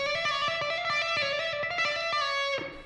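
Smooth electric guitar notes flow in a quick connected line, each note sounding with a soft attack rather than a sharp pick, steady and fairly quiet, no talking.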